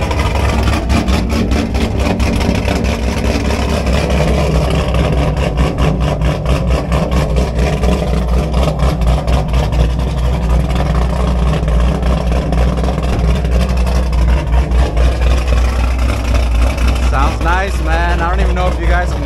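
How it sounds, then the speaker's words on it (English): The cammed Chevrolet Camaro's V8 fires up and settles into a loud, close, lumpy idle with a choppy, uneven rhythm; a voice talks briefly near the end. "let's get her started so you guys can hear some chop"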